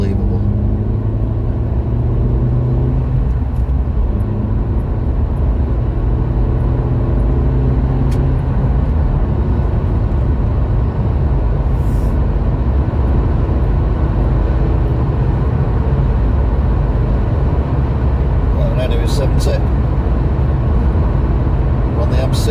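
Car cruising clockwise on the M60 motorway in lockdown, a steady loud rumble of engine and road noise throughout, with brief higher hiss passes from traffic near the end.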